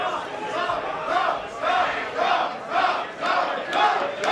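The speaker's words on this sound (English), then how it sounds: "Crowd trying to will Jeff Cobb back here." A wrestling crowd at a PWG show chants in a steady rhythmic pulse, about six loud surges in a row, filling the hall with massed voices.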